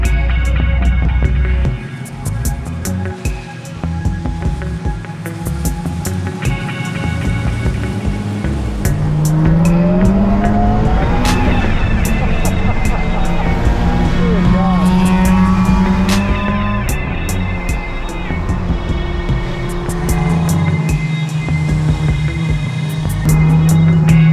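A race car on a wet time-attack track chasing an old Honda Civic, its engine droning loud and steady throughout with rising and falling pitch sweeps through gear changes, heard from inside the car.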